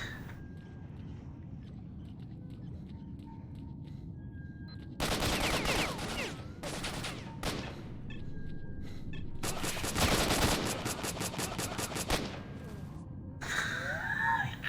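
Rapid bursts of automatic gunfire in the S.T.A.L.K.E.R.: Shadows of Chernobyl shooter, with one long volley, short clustered shots and a final dense fusillade over a low ambient rumble, fairly loud and without talk.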